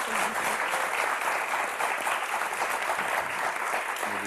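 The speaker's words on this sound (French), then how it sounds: "On vous applaudit tous les quatre très fort." Studio audience on a French word game show clapping, a broad steady wash of many hands that holds evenly throughout and stays fairly loud, with no voices over it.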